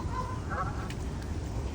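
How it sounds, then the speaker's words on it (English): Geese honk outdoors in a short burst of nasal calls over a low rumbling background, with a few faint honks following. "Okay, we got our geese out here,"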